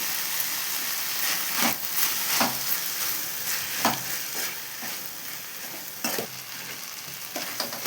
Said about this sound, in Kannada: ಇವಾಗ ಟೊಮೊಟೊ ಹಾಕ್ಕೊತಾ ಇದ್ದೀನಿ. 2 ಟೊಮೊಟೊ ಹೆಚ್ಚಿಟ್ಕೊಂಡಿದ್ದು ಹಾಕ್ಕೊತಾ ಇದ್ದೀನಿ.